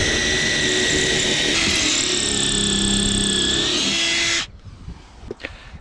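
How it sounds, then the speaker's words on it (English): A power drill with a small Armeg bit whines steadily at high speed for about four seconds, its pitch shifting slightly as it bites, then stops abruptly, leaving faint clicks. "we're going to drill these 2 holes with my little Armeg bit"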